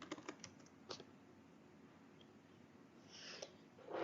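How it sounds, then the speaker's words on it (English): Faint keystrokes on a computer keyboard during a command-line hacking session: a few scattered clicks at first, a quiet pause, then a quicker cluster of taps near the end. "so after typing this python tty we have a second link with the responding tty shell"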